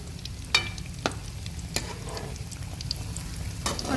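Bread chicken patties sizzle steadily in a frying pan, with a few sharp clicks and scrapes from a utensil turning them.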